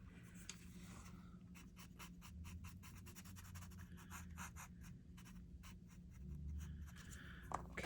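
Soft, quick scratchy rubbing strokes on paper repeat in a steady back-and-forth rhythm, close and fairly quiet.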